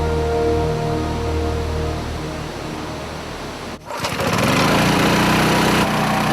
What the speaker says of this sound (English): The compressor fills the tanks with clean air